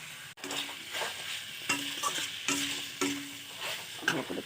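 Jackfruit stir-fried with spices and salt in a pan, with soft rhythmic stirring scrapes over a faint steady sizzle, close and quiet.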